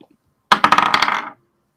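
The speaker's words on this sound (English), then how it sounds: "good dice noise" Tabletop dice clatter onto a table in a quick burst of bright, rapid clicks that rattle and settle within under a second, loud and close.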